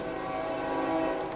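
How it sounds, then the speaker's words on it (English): A train passing close by, a steady loud rumble with sustained horn-like tonal bands running through the whole stretch, heard alone. "Hold on, here comes the train."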